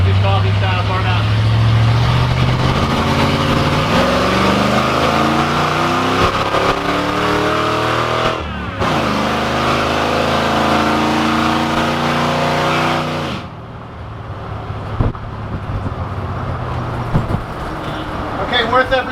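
A Divco milk truck fitted with a Ford V8 roars through a burnout, the engine loud and close as it climbs in rising revving sweeps, then cuts off abruptly to quieter background noise.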